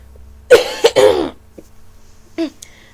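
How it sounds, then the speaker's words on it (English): A man with a cold clears his throat and coughs in a few sharp, close bursts, a cluster early on and another short one later, with quiet in between. "you'll probably hear me clearing my throat or coughing a lot throughout this video"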